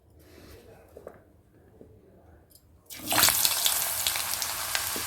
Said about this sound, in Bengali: তেলটা ভালো মতো গরম হয়ে গেছে এবার আমি একে একে সবজিগুলো ভেজে তুলব